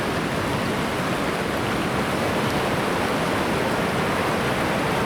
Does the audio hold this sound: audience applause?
no